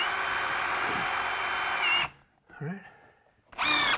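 A power drill whines steadily while driving a screw into a new window's track, stops, gives a short quieter burst, then revs again; someone speaks briefly during the pause.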